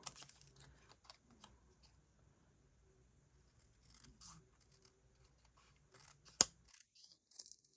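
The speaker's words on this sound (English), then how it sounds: "take scissors and trim it down" Scissors snip a stamped paper card image into a straight-edged piece, making quiet, close cutting clicks in scattered bursts with a sharper snip near the end, against a faint background hum.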